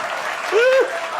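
Brief audience applause at a poetry recitation, a short spatter of claps under a person's voice that rises and falls in a single utterance.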